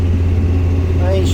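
Old Kubota tractor with a steel cage, engine running out while bushhogging, a steady low diesel rumble throughout under someone talking.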